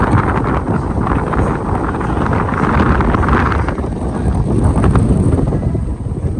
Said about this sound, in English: It's so windy, you feel like you're gonna